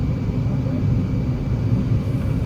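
Steady, loud broadband roar of engines and airflow inside the cabin of an Emirates EK343 airliner circling over Dubai at about 6000 feet, a continuous even drone with no break.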